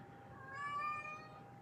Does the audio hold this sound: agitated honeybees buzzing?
no